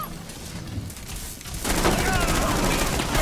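Gunfire in a shooting video game, starting as scattered shots and then swelling into a loud, dense burst of rapid fire over the second half, with players talking over it.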